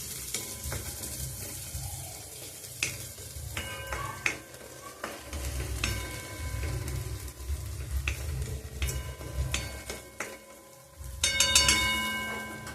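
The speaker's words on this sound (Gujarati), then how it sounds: "સૌ પ્રથમ તેલ, હવે આપણે તેમાં લીલી ડુંગળી ઉમેરશું." Green onions frying in hot oil in a home kitchen, a soft crackling sizzle with occasional stirring and utensil clinks, getting louder near the end.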